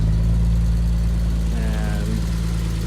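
A 1963 Jaguar E-Type FHC engine idling with the choke on, a steady, loud low rumble throughout with a brief faint whine partway through.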